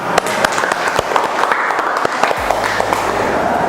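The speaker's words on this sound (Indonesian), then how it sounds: "Oke, tepuk tangan" Applause from a vocational school audience at an automotive engineering teaching session, with distinct individual claps standing out from the crowd, continuing for nearly four seconds.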